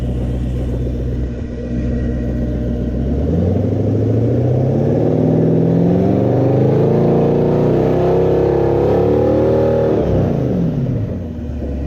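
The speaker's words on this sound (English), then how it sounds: "I'm going to give the engine a rev with it locked." A Toyota 1UZ V8 running a Link ECU revs hard, the loud, close engine note rising smoothly in pitch over several seconds before dropping sharply back toward idle, with no voices.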